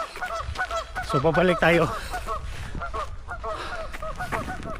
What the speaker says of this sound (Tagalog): Tapos may mga itik doon, no?